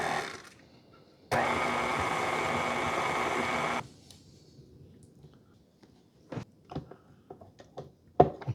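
A stand mixer fitted with a paddle runs on its lowest speed, gently folding creamy no-bake ambrosia pie filling, a steady motor hum lasting a few seconds before stopping, followed by scattered clicks and clatter.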